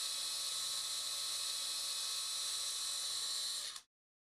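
A high-pitched surgical drill with a 2.5mm bit whines steadily and continuously at close range, drilling tibia bone, then cuts off abruptly just before the end.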